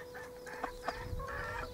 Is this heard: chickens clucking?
yes